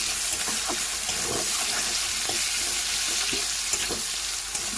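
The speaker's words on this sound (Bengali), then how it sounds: "পেঁয়াজটাকে ভালো করে ভেজে নেব।" Chopped onions frying in oil give a loud, continuous close sizzle with scattered small crackles and faint stirring knocks throughout, and no one speaks.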